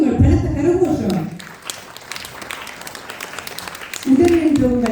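An audience claps and applauds at a stage show of music and performances, a dense steady patter of many hands between stretches of a presenter speaking over a microphone.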